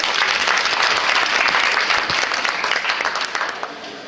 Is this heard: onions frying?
no